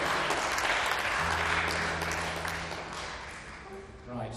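Concert audience at a live show in Italy claps and cheers loudly, the applause fading gradually, with a sustained low tone from the stage and voices mixed in near the end.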